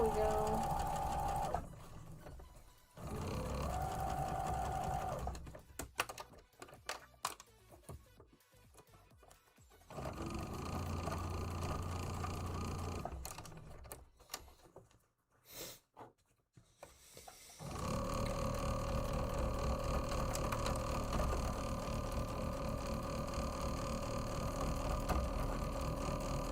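A home sewing machine labouring through thick, layered seams, whirring in several long runs separated by pauses and clicks, close and fairly loud, with its motor pitch dipping and straining as it pushes through.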